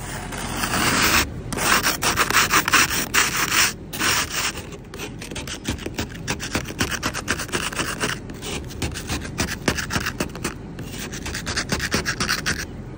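A car windshield wiper rubs and scrapes over snow, producing steady repeated gritty strokes, close and fairly loud, continuous across the whole stretch with no talking.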